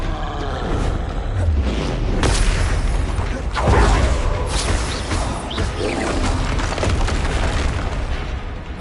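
Incendio and Expelliarmus spells cast in Hogwarts Legacy erupt as heavy booms and fiery whooshes, several distinct blasts over a dense rumbling battle bed, loud and close throughout.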